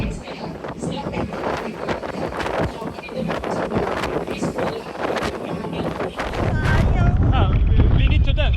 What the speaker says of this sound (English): the wind here is extremely strong. It's blowing me away from the deck.